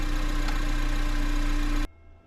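A car engine idles loud and steady with a low rumbling hum, then cuts off abruptly near the end, leaving near silence.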